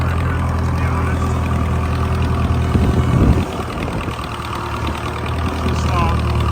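A Massey Ferguson 180LP tractor engine, running after 35 years with low oil pressure, idles steadily at close range with a knocking, clanging note. A short louder burst comes near the middle, and someone speaks over it.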